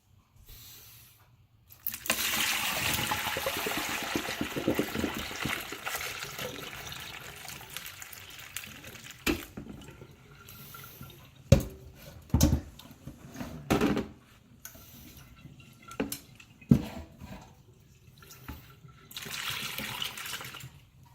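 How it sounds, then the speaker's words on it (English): Brined corned beef brisket is strained and rinsed under running water in a sink, a close, steady splashing stream broken by sloshes, knocks and handling noises. "we're going to start out by straining off the brine and rinsing the brisket"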